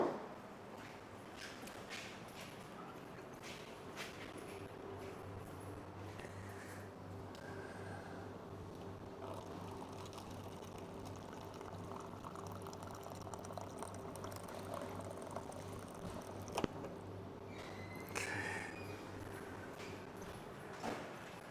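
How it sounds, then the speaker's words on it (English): Hot water pours steadily into an instant soup cup at a Tokyo convenience store, a soft continuous bubbling and trickling stream beneath low background hum, faint and without talk. "I filled it up with hot water"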